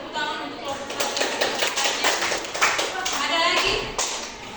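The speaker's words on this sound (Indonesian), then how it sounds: "tepuk tangan untuk kelompok 1" Classroom applause for a group of high school students during an ecosystem lesson in Kupang, Indonesia: a steady burst of many hands clapping, fairly close, with children's voices mixed in throughout.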